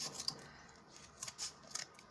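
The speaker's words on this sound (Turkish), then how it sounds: "Makasla ortasından kesiyoruz." Scissors snip through a cardboard cup in a handful of quick, crisp cuts with short pauses between them, close and fairly quiet, with no talking.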